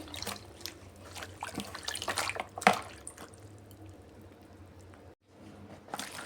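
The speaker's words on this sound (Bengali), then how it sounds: "আরও একবার জল দিয়ে ধুয়ে নিচ্ছি পাতাগুলোকে" Pumpkin leaves being rinsed by hand in water in a kitchen, giving soft splashing and trickling with a few dripping clinks, moderately close and fairly quiet, with a brief pause near the end.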